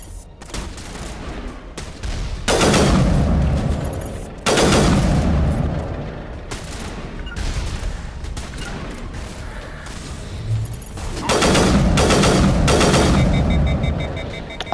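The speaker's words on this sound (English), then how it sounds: "And then I'm gonna go ahead and use my sniper." Sniper rifle shots from Mass Effect Legendary Edition: several loud, booming reports with long echoing tails, spaced a few seconds apart and then clustered in a rapid burst near the end, with no talking over them.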